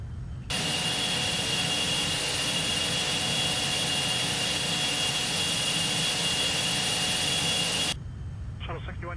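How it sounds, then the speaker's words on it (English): Beechcraft Premier 1A jet engine in a flight simulator, a loud steady roar with a high whine held unbroken for most of the span, then cutting off abruptly near the end. "This is the Premier 1A Beechcraft."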